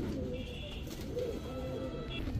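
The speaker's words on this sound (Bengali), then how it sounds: "একেবারে same to same carbon copy একটা হাইফ্লায়ার গিরিবাজ জোড়া" High flyer giribaz pigeons cooing, a pair kept for sale, giving soft repeated coos over a constant low background hum at a fairly faint level.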